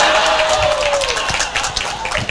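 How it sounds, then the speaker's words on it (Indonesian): Applause and clapping from an audience at a religious gathering, a broad steady patter of many hands filling the space, with a voice speaking over it. "Tepuk tangan yo."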